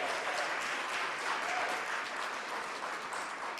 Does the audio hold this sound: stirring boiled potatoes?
no